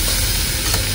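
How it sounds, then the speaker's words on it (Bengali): Soybean chunks fry in a pan inside a truck cab as they are stirred, a brief, steady sizzle with scraping from the spoon, with no voices. "তো বন্ধুরা এখানে সয়াবিনগুলো দিয়ে দিলাম, ভাজা হয়ে গেছে।"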